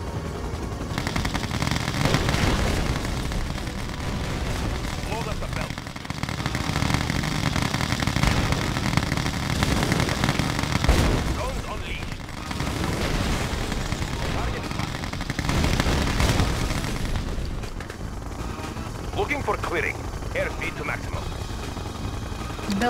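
Siege Chopper guns unleashed in Red Alert 2: Yuri's Revenge, a dense battle din of rapid gunfire bursts and heavy booms rolling on and off, with game voice announcements over the top.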